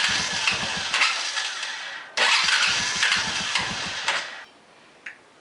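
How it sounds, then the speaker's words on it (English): A motorcycle engine that will only barely idle catches with a loud, rough roar, cuts out, fires again, then dies away. The two running bursts are close and harsh, and a faint click follows after it stalls. "And that's how it was running originally. It would only barely idle."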